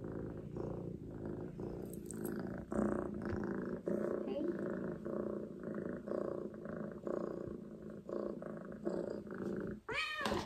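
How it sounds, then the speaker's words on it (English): A young kitten purring steadily and close, with a soft meow near the end, while a person talks quietly over it. "Why are you meowing at me?"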